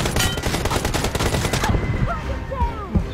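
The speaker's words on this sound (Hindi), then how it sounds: "अच्छा पहले ही गोली चल रही है मेरे आने से पहले ही" Rapid automatic gunfire in the PUBG Mobile game rattles loudly in dense bursts for over a second, then cuts to scattered shots and pings, close and with no talking.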